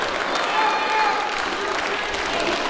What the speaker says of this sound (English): The crowd willing Latin Thunder back into this